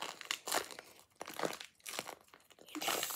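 Crunchy, crinkly squeezing sounds in a few bursts, like beads compressing inside a squishy homemade stress ball, close and fairly loud.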